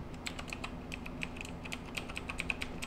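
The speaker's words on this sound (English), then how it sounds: "And you can hear how clicky the keys are." Clicky keys on an inexpensive aluminum-bodied gaming computer keyboard are typed in a steady run of sharp, close clacks, fairly quiet and heard alone.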